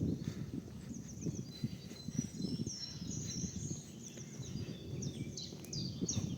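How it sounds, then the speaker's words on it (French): Small birds chirp and trill outdoors in the countryside, high bright calls scattered across the scene at moderate distance over a low rumbling background of wind or movement. "Écoute les petits oiseaux."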